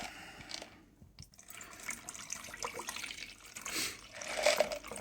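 Water, with coins still sitting in the pitcher, is poured from the pitcher through a funnel, making a faint, continuous trickling and splashing stream with small drips.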